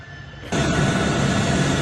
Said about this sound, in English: There's a Globe Master heading to Colombia.